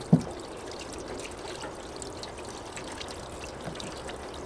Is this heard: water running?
yes